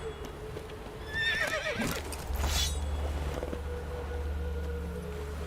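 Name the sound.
horse Roach neighing in a video game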